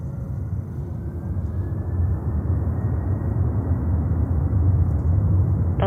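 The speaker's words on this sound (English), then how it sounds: "Takeoff, 767." A Delta Boeing 767-300 heavy takes off from runway 31 Left at JFK, giving a steady, broad jet-engine roar that swells slightly as it builds, heard from a distance with no voices.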